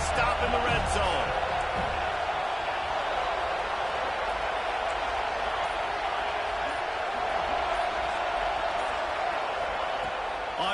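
A stadium crowd roars and cheers at a college football game as the home defense tries for a red-zone stop, a loud, continuous wash of voices that never drops away.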